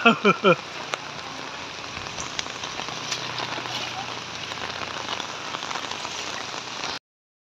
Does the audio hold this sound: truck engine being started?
no